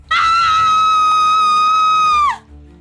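A single piercing, high-pitched scream from a Hindi romantic audio drama rings out loud and alone, holding steady for about two seconds before cutting off sharply.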